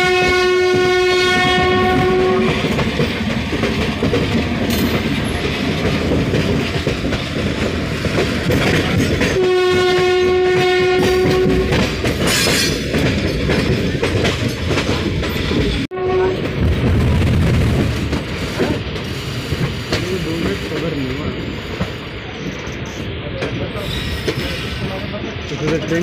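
The Dehradun Janshatabdi express rolls into Ghaziabad Junction, its loud horn blaring in two long blasts over the steady roar and clickety-clack of the passing coaches, with people talking faintly on the platform.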